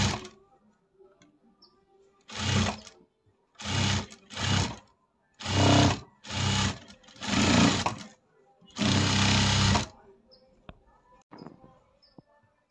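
A sewing machine stitches a blouse in short bursts, about six runs of fast close whirring separated by quiet pauses, with faint handling sounds between.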